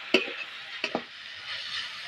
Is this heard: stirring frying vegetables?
yes